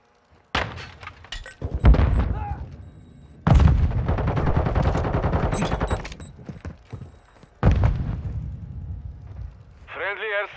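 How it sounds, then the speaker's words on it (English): Heavy explosions from a friendly airstrike in Modern Warfare 2, big booming blasts with long rumbling tails, loud and close, with a radio voice-line chirp at the end. "Friendly airstrike in the AO."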